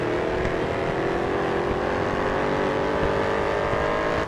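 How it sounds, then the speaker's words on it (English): Race car engines in the mobile racing game Grid Autosport roar continuously, a dense high-revving whine sustained at full volume throughout with no voices. "Grid Autosport is considered by many to be the gold standard of simulation racing games on mobile"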